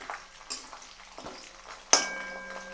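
Hair oil mixture being stirred in a pan, with soft scraping and sizzling, a few louder clinks from a utensil against the pan, and one sharp metallic ring near the end.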